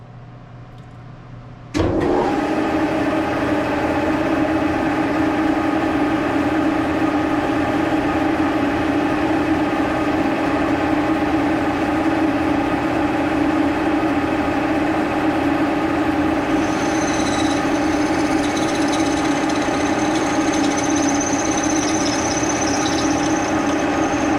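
A Brown & Sharpe No. 2 plain milling machine motor starts abruptly and settles into a steady, loud mechanical hum, with a higher whining tone joining later as a cheap drill bit cuts.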